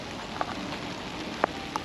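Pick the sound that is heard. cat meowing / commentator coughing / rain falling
rain falling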